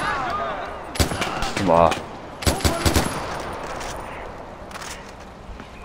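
Gunfire in Far Cry 4, several sharp shots and short rapid bursts in the first half, fading to quieter ambience, with a brief voiced exclamation among the shots.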